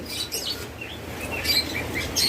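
Pet lovebirds, cockatiels and budgerigars at a bird breeding setup chirping and tweeting continuously at moderate volume, with overlapping calls over a steady background hiss.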